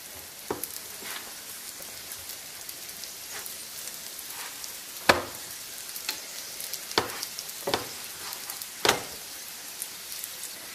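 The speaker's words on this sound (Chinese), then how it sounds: "盖上盖子中火烙饼，烙至饼的表面变得透明了" A stuffed vegetable pancake fries in a covered pan over medium heat, a soft steady crackle of oil broken by scattered sharp pops and spits at irregular intervals.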